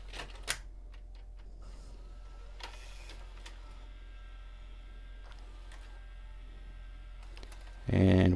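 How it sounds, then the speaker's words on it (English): A VHS tape loads into a Mitsubishi HS-U560 VCR under repair, with a series of faint mechanical clicks and whirs, then a sudden loud low mechanical hum near the end. "We're going to put a tape in and see what happens."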